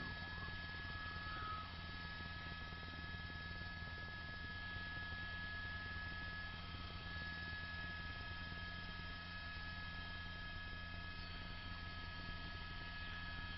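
A police helicopter circles overhead during a high-speed car chase in Orange County, its steady rotor hum and engine drone running continuously and fairly faint throughout, with no talk.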